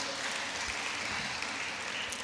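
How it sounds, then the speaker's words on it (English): An audience applauds at an NBA Women Forum gathering, a dense and steady clapping that fills the whole stretch without pause. "Please, a round of applause for them."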